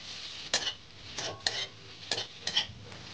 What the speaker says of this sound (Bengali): নাড়াচাড়া করতে করতে সবজি একদম পুরো মিক্সড হয়ে গেল